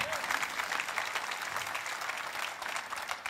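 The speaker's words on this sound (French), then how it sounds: "Voulez-vous l'applaudir avec moi?" Audience applause during a religious talk, dense steady clapping from a crowd throughout, fairly loud and unbroken.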